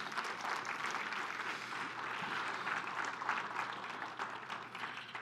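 A church congregation applauds the Lord during a worship service, a steady, dense wash of many hands clapping together that holds evenly throughout without pause.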